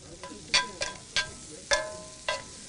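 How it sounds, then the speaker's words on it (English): Cabbage and spätzle sautéing in butter with salt and pepper, a run of short bright sizzles and stirring scrapes in quick, uneven bursts, close and moderately loud with no talking. "So we're gonna saute like that."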